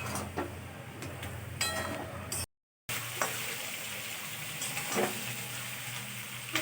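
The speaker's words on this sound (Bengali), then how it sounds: "এই যে চিলি চিকেনের জন্য এগুলো একটু ফ্রাই করছি" Vegetables for chilli chicken fry in a pan, a soft, steady close sizzle with faint stirring scrapes, broken by a brief silent gap.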